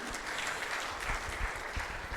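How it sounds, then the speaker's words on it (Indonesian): An audience at the IDNOG 04 network operators' conference in Jakarta applauds, a steady wash of clapping lasting around two seconds at moderate distance. "Terima kasih Bapak Jamal, boleh kita berikan tepuk tangan."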